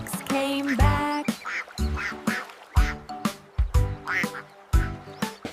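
Cartoon ducks quack in a children's nursery rhyme song, a run of bright, distinct quacks sung over a bouncy musical backing, close and loud.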